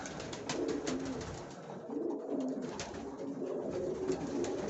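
Domestic pigeons cooing in a loft, soft repeated low throaty coos from several birds overlapping against a steady background hum, with faint clicks and shuffling.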